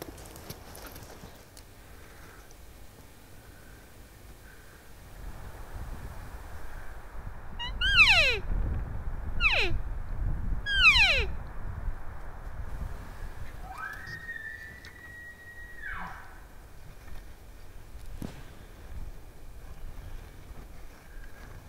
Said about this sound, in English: We got a bunch of bulls all the way around us. Probably 8 or 10 bugling.